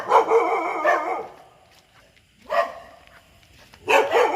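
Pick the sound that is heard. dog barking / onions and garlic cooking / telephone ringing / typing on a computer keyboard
dog barking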